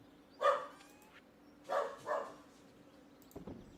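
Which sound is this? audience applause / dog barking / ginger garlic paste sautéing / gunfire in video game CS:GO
dog barking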